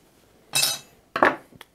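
A PS5 console's plastic cover lid gives two short, bright clicks and a light rattle, with a faint tap after them, all close and crisp in a quiet room.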